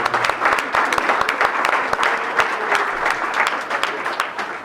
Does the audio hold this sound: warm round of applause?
yes